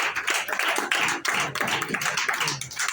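Audience applause for a newly appointed area manager in the Sargodha zone, a dense burst of hand clapping close and fairly loud, with a brief dip midway before resuming.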